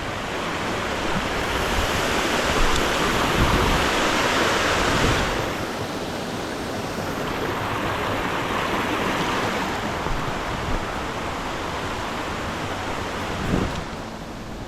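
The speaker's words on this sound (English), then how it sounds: "Well, these are the falls." Lower Corlew Falls in Yosemite pours with a steady, dense rush of water that stays loud and unbroken throughout, with no voices over the roar.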